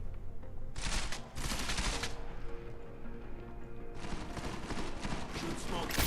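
Gunfire in the video game Deus Ex: Mankind Divided, as the player shoots up the place: two long, loud bursts of rapid shots with a brief lull between them.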